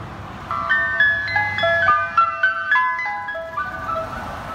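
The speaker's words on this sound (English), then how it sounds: "That was the ice cream truck" An ice cream truck's jingle plays a bright, tinkling melody of sustained electronic notes, moderately near over a low rumble of surf-side ambience, with no talking.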